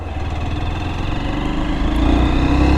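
Hero Xtreme 200S BS6 motorcycle engine running steadily close by, a continuous throbbing mid-pitched drone that builds slightly in loudness toward the end, with no talk.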